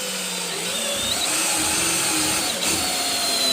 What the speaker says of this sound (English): I like this step up bit though. It actually works pretty good for plastic.